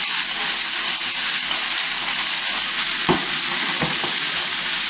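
Blanched cauliflower stirred in a hot pan makes a constant loud sizzling hiss, with a couple of dull scraping strokes from the stirring.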